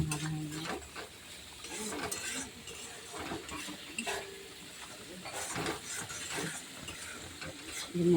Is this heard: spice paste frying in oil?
yes